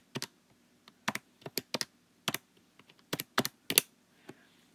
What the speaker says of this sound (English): So I'm going to type all that in my calculator.